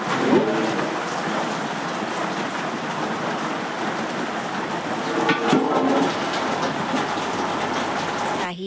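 Heavy rain pours steadily at night in a village, a dense, close, unbroken hiss with a slightly louder burst about halfway through.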